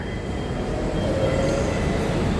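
A Manila LRT 1 light rail train near Araneta Cubao runs with a loud, steady low rumble and rolling wheel noise, close by, with a faint high squeal rising briefly.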